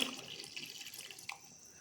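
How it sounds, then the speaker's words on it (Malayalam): Second coconut milk poured into a pot of mung dal payasam, a faint, steady liquid trickle and splash lasting a couple of seconds with no voices. "ആ 2ാം പാല് ഇതിലേക്ക് ഒഴിച്ചു കൊടുക്കാം."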